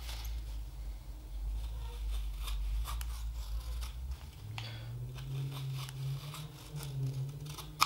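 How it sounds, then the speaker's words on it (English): A knife tip cuts facets into a green wood spoon as the spoon is drawn against the blade, giving soft, close scraping and slicing strokes over a low background hum. "I'm not really moving the knife, I'm just pulling the spoon against the blade and allowing it to cut at a nice angle."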